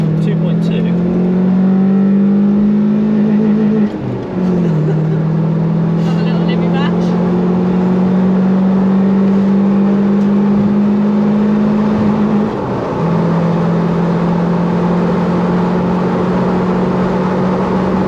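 A 1996 Honda Prelude with a 2.2-litre engine, VTEC not working, drones loudly while driving, holding steady revs with two brief dips as gears shift, heard from inside the car.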